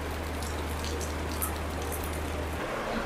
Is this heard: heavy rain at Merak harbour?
yes